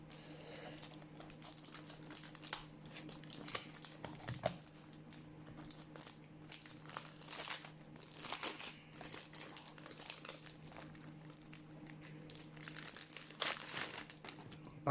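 Plastic packaging from a diamond painting kit crinkles and rustles in repeated bursts as it is handled and opened, quiet and close with a low steady hum beneath.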